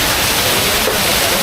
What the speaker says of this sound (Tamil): தண்ணி ஃப்ளோ வந்து சூப்பராக இருக்குது